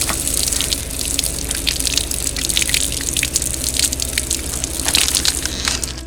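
Water sprays from a homemade, solar-heated, pressurized ABS-pipe outdoor shower pumped to 15 PSI, making a steady, close hiss of mist and spray that runs unbroken from start to finish with no talking.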